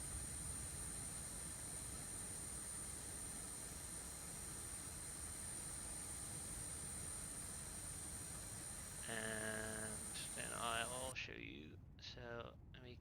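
Steady broadband roar of a PW1100G jet engine in the X-Plane 11 flight simulator, a constant drone that holds for most of the stretch before shifting near the end as a voice briefly comes in.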